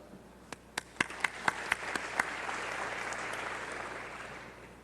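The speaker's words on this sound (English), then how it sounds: "Could I have all the seated delegates give a quick round of applause?" Seated delegates at a fraternity congress give a quick round of applause: a few separate claps build into a soft, moderately distant wash of clapping that fades out slowly.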